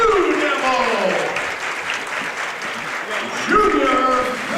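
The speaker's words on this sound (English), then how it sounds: "clap your hands and get on your feet for your very own Cambridge Springs Blue Devil" Crowd at a high school boys basketball game between Cochranton and Cambridge Springs clapping and cheering steadily throughout, loud and sustained, with an announcer's voice and shouts carrying over the applause.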